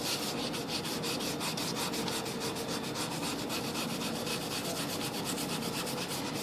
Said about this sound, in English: I'm going to show you how to use just the damp sponge, using your coarse side first